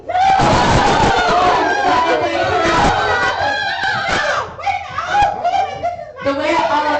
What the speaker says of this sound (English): The way all of you are screaming